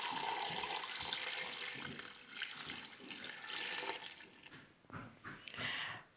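Water poured from a tap into a cooking pot for a Moroccan harira soup, a loud steady gushing stream that thins and sputters near the end, close by with no talk.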